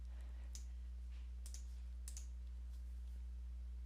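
Keystrokes on a computer keyboard typing a search into the Windows 10 Start menu: a few faint, scattered clicks in small bursts over a steady low hum, with no speech.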